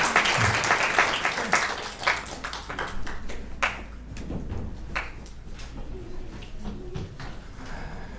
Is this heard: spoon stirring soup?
no